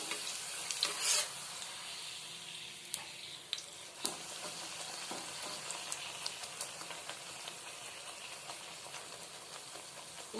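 Spinach kochuri puris deep-fry in hot oil with a steady, close crackling sizzle that fills the whole stretch. Occasional sharper pops and clicks break through, and no one speaks.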